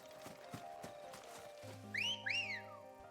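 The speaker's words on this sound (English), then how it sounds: "Except for that whistle. Don't approve of that." Whistle in the video game Final Fantasy 16, two quick rising whistled notes heard clearly near the end, after soft hoof-like thuds and a low droning tone in the game's soundscape.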